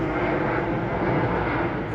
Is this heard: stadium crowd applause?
no